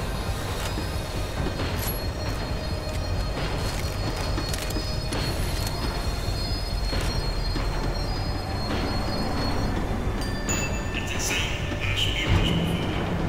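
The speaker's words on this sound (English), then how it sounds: "The tram was slowing down, and I'd only just gotten on board." A tram slowing down, heard from on board as a steady close rumble of wheels on rails with drawn-out metallic squeals and faint clacks running throughout.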